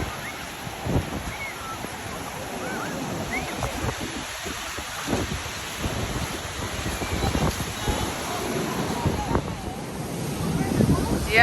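Waves wash onto a beach at Baler in the Philippines, a steady broad rush of surf with gusty wind buffeting the microphone, continuous and fairly loud throughout.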